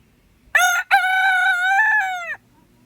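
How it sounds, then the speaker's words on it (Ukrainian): A Silkie rooster crows loudly and close by, one long drawn-out crow with a brief catch near the start, then silence. "Півник шовкової породи."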